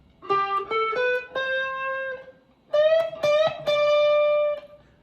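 Clean electric guitar plays a lead lick from a solo: two short phrases of picked notes and a walk-up, each ending on a held, sustained note, alone with no talk.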